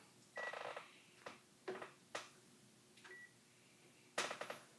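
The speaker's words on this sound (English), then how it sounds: "You hear the beeping thing going," Electronic beeping in a kitchen with a running microwave: several short, bright beeps and clattering bursts at irregular intervals, fairly quiet, with no talking.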